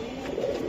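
A Bezi pigeon's soft, rolling coo hums along continuously, close but fairly quiet against a faint steady background.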